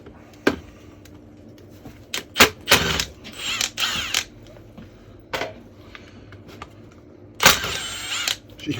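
A power tool spins bolts out of a gearbox side plate with short bursts of whirring and rattling, separated by clicks and clunks of metal parts. Several bursts are loud and close, with quiet handling noise between them.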